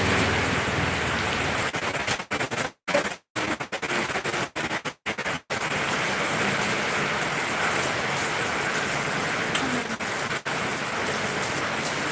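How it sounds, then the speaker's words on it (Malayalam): Steady heavy rain pours down in a constant broadband hiss, briefly broken by a few abrupt cut-outs early on. "ആരും വരുന്നില്ല മഴ കാണാൻ"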